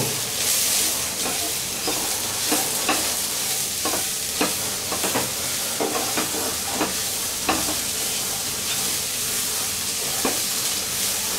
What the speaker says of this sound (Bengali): এটাকে একটু হালকা করে ভাজবো